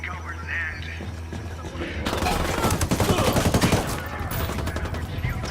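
Automatic gunfire erupts in the video game Ghost Recon Wildlands, rapid bursts of shots and thuds building to a dense fusillade after quieter ambient sound, with faint voices in the background.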